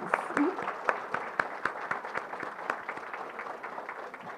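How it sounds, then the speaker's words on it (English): Applause at an executive leader breakfast greets Major League Baseball CFO Jonathan Mariner, fairly faint and somewhat distant clapping with a few sharp individual claps standing out, continuing steadily throughout. "A round of applause for him, please"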